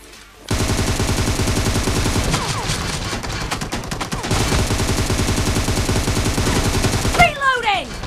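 Automatic rifle fire from an AKM or M762 in PUBG Mobile rattles in a long, fast, continuous stream of loud close shots, ending with a brief whine and a short sound effect.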